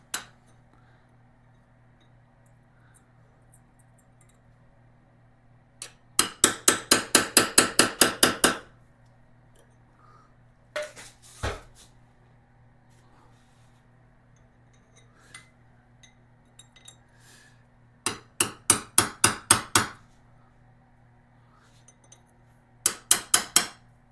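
Rapid bursts of metal tapping on the front sprocket lock ring of a Lifan KPT 400cc motorcycle as it is straightened, coming in three clusters of quick strikes with quieter single taps between them over a low steady hum.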